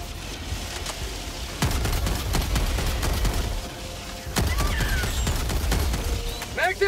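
In Helldivers 2 during a hot extraction, a gun fires sharp, rapid shots in two long volleys until the magazine runs dry, loud and close, with chirpy effects and voices over the fire.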